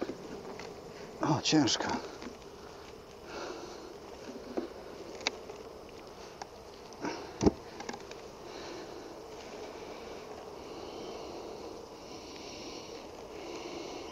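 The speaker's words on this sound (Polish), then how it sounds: "Pszczół jest bez liku." A steady, faint hum of many honeybees fills the air around an opened Flow Hive, continuous throughout, with occasional thumps and handling knocks and someone speaking briefly near the start.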